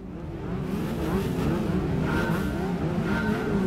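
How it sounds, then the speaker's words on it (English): A turbocharged race car engine in the video game Gran Turismo 5 drones and revs steadily with a whining, strained tone, continuous and moderately loud, with faint tire noise in the mix. "The car's now turbocharged. We've put a turbocharger in it."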